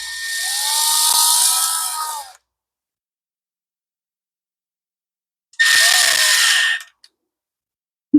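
A power tool drives screws into a Homelite leaf blower in two whirring bursts, one about two seconds and a shorter one after a long silence, close and fairly loud with no talking.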